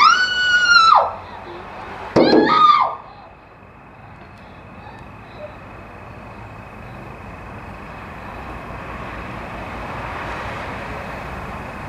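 An actor gives two loud, piercing screams for a horror film scene, one long shriek followed by a shorter one after a brief gap, then near silence with a faint background rumble.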